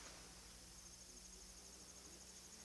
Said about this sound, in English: The crickets